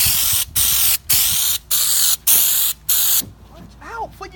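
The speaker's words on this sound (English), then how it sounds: "Watch out before you get sprayed." Raptor bedliner is sprayed onto a vehicle in short, loud hissing bursts, about six of them with brief gaps between, close up, followed by a faint squeaky sound at the end.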